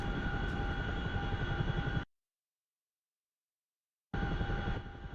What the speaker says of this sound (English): I'm just flying a Chinook over from this base